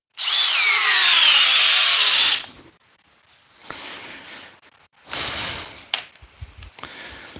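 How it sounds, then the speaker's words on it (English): M12 subcompact drill running next to an M12 hammer drill, likely boring into wood: one loud, steady whine lasting about two seconds, then quieter, intermittent bursts of spinning and grinding, close by with no talk. "the difference between the M12 hammer drill, which is already compact, and the subcompact M12 drill"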